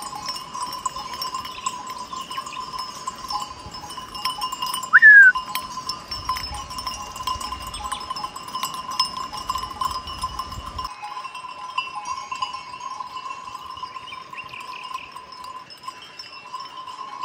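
Goats bleat now and then over a steady ringing of bells, with a brief higher call standing out midway; outdoors, no talking.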